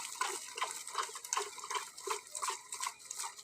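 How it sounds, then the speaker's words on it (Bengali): Water poured by hand from pond-drawn buckets onto plants in a vegetable garden, heard as a run of close, splashy gushes and drips in a fairly regular rhythm, moderately quiet with no talking. "মা খুব কষ্ট করে জল তুলে সবজি বাগানে জল দিচ্ছে"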